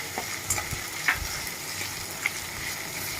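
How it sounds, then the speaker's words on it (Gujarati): Onions frying in ginger-garlic paste in a pan for stuffed masala idli, a steady close sizzle with soft stirring scrapes and occasional pops, no talking. "આદુ લસણની પેસ્ટ એકદમ સરસ સંતળાઈ જાય પછી આપણે એમાં ડુંગળી એડ કરી દઈશું"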